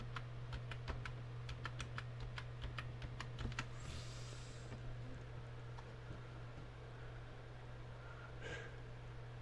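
Quiet typing on a computer keyboard, a run of quick, evenly spaced key clicks over a low steady hum, then a brief pause and a few more taps.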